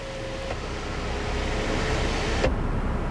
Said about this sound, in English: You can actually one-touch operation for your sunroof, and it opens up.